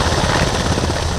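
Black Hawk military helicopters at a National Guard training site give a loud, close, continuous rotor roar with fast chopping pulses, filling a very short stretch.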